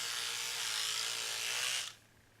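Homemade whitening toothpaste mixed with a toothbrush, giving a bright, steady buzzing whir close by that cuts off sharply near the end.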